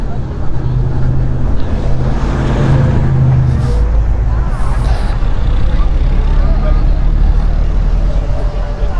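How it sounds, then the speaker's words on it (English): Classic cars, among them Minis, rolling in at the Felixstowe vintage run: loud, continuous rumbling engine and road noise close by, low throbbing idle and passing motors with some brief higher hiss. "so this is all the classic cars arriving now"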